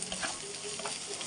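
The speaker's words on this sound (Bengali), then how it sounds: "ভাজা হচ্ছে" Chopped taro greens frying in hot oil in a pan, a steady close sizzle with faint stirring, no voices.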